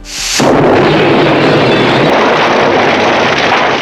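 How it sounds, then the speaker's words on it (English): A sudden loud gas explosion, set off by a fireplace in a gas-filled room, bursts out after a brief tone, then a heavy roaring blast rumbles on at full volume, close and sustained. "As gas filled the room, the fireplace sparked an explosion."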